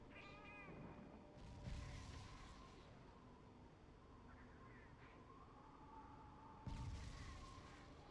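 A cat meows inside the Monster Hunter video game, with a few short meows standing out over busy game music and effects, the loudest near the start and again toward the end.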